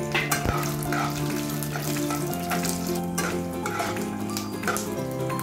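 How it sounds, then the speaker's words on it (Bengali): Peanuts, raisins and cashews stir-frying in oil for chira pulao, a soft continuous sizzle with scattered ticks and scrapes from stirring, fairly quiet and with no talk. "তার মধ্যে কিশমিশ ও কাজু বাদামটা দিয়ে ভালোভাবে নাড়াচাড়া"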